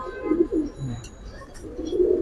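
A pigeon at a sale of Giribaz and racer pigeons coos in short rising and falling phrases, close and clear, with faint background clicks.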